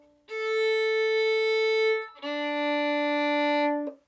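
Two sustained violin notes bowed midway between bridge and fingerboard, smooth and full-toned, played one after the other with a brief break between them, close and clear.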